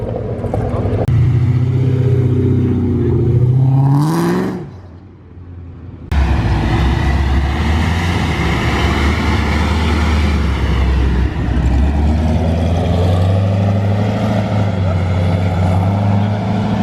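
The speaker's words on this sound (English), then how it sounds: "Got the C63 Black Series and then the crazy black 812 rolling out." A Mercedes C63 Black Series and a black Ferrari 812 roll out of an early-morning car show, engines rumbling loud and close with a brief dip before the sound swells again, under crowd chatter.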